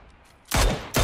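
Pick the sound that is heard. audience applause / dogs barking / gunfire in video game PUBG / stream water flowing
gunfire in video game PUBG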